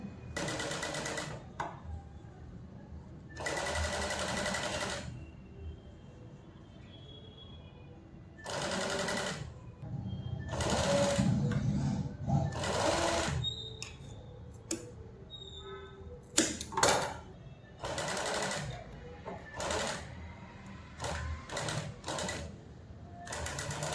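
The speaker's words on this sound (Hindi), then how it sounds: "यहाँ पे मैं पाइपिंग कॉर्ड से कवर करती हूँ गले को और यहीं से बराबर मैं 5 इंच पे सिलाई दूंगी" A sewing machine stitches piping cord onto a blouse neckline, running in several short bursts separated by quiet pauses and faint handling noises, close and without speech.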